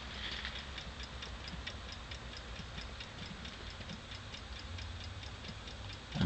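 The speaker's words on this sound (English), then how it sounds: "Let's see if you can hear the clock." A clock ticks inside a rotisserie-restored 1955 Chevrolet Bel Air convertible, with steady, evenly spaced ticks running throughout over a low background rumble.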